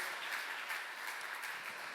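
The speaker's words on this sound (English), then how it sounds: "let's give those two people and the two people before, all four people, a huge round of applause" Audience at a benefit auction applauding, a steady wash of many hands clapping heard from a distance, soft and continuous.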